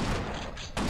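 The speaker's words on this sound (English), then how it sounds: "Stop shooting." Rapid gunfire from the video game Space Beast Terror Fright, a dense burst of shots, loud and close, filling the whole brief moment.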